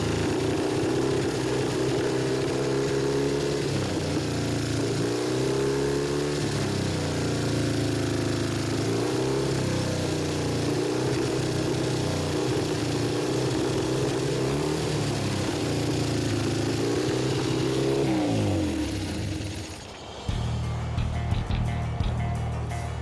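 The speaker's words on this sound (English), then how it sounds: "Once we had the bike running on 2 cylinders again" A 60-year-old motorcycle engine running on only two cylinders idles and revs in a steady, loud drone with rising and falling pitch, then cuts out abruptly near the end.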